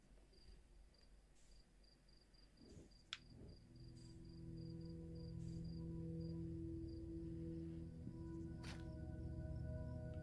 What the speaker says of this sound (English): Hey, crickets survived the end of the universe.